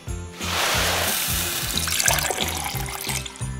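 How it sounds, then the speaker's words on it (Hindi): Magic powder is mixed into water during a cartoon snow-making class at an elf school, a steady rush of running, splashing water over a repeating rhythmic background beat. "चलो जादुई पाउडर मिलाते हैं पानी में।"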